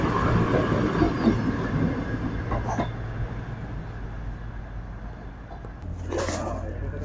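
A train rumbles steadily through Durham station bound for Newcastle, a continuous low roar with faint rail clatter and a brief higher squeal near the end, no voices.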